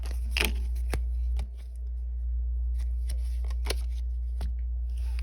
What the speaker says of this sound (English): I'm going to pull out the cards again.